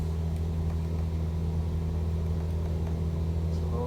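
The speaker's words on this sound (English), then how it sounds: "So we can go full throttle here." Simulated aircraft engine in a flight sim game held at full throttle while taxiing: a steady, loud droning hum with a constant low rumble and no change in pitch, no talk.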